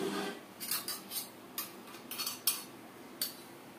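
A spoon scrapes and taps against a dish while avakaya mango pickle is served onto upma, giving several soft, close clinks and scrapes spaced irregularly over a quiet background.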